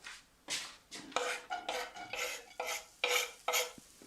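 Onions stirred in a frying pan with about three tablespoons of oil, rhythmic scraping strokes of a utensil against the pan, roughly eight close strokes with a faint sizzle beneath.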